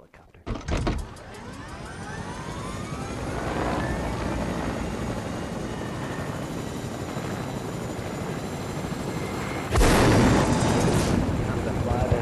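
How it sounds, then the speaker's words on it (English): A Fortnite helicopter's rotor drones in a continuous whirring roar, with sharp loud bursts near the start and again toward the end, and brief voices over it. "Helicopter."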